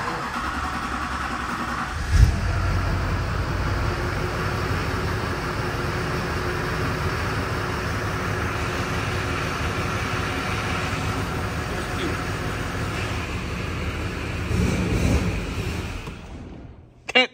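A Duramax diesel truck engine runs after a fuel filter replacement, a steady, fairly loud mechanical drone that holds for most of the stretch with a brief knock near the start and a swell near the end.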